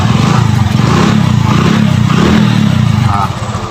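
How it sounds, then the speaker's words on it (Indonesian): Engine of a Suzuki Shogun SP motorcycle with a weak battery and faltering electrics, held at a loud, close, rough, pulsing idle under throttle, easing slightly near the end. "Kita gas teman-teman ya."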